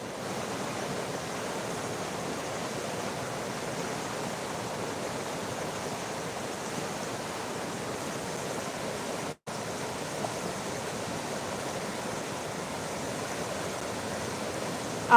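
A loud riverside scene at a park with a swinging bridge, where the river's water rushes and splashes in a steady broadband roar, constant and unbroken for the whole stretch, with no voices heard.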